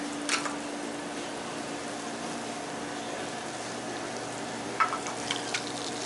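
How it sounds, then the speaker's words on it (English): Steady, quiet sizzle of a game hen searing in hot oil in a pan, a low continuous crackle with a couple of brief louder spatters. "I have to sear it off, and then we're going to finish cooking in the oven."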